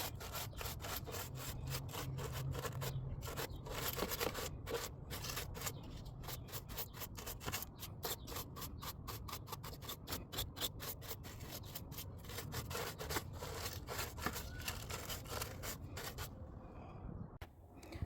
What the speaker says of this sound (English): I'm going to try to lightly brush some of this out here